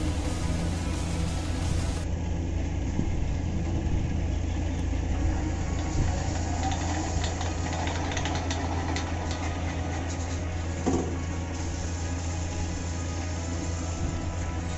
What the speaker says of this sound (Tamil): பார்த்தீங்கன்னா மோட்ரு சூப்பராக ஓடுது